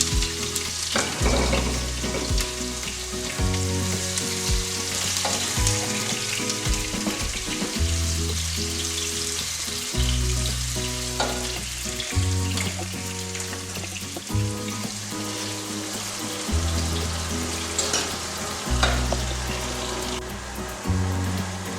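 Onions fry in a pan for a meat pie filling, giving a steady close sizzle with occasional stirring, over background music throughout.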